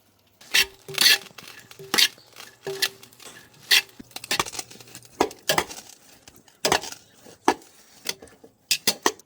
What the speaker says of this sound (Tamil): அந்த சைட்லேயே கிளறிக்க போகிறோம்